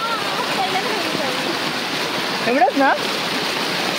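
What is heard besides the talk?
swollen village river flowing fast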